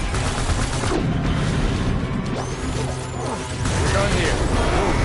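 Gunfire and crashing impacts in a video game battle, loud and continuous, with sharp bursts and debris-like clatter layered under a voice calling out amid the combat.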